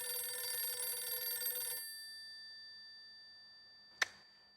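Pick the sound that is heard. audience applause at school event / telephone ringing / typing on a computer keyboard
telephone ringing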